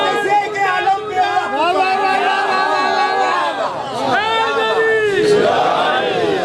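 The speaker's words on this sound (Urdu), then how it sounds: "دونوں ہاتھ بلند کر کے نعرے حیدری" A crowd chants the Nara-e-Haidari battle cry with raised hands, massed voices rising in loud, sustained shouts with overlapping calls and a swelling peak near the end.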